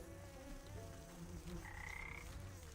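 Frog croaking in the video game Wytchwood, a repeated low rattling croak layered with buzzing insect-like ambience in a steady game soundscape, moderately quiet and without talk.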